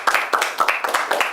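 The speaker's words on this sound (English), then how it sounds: "A round of applause for AAUA." An audience at a televised accountancy quiz game show gives a short burst of applause. The clapping is brisk and uneven, about a dozen claps within just over a second.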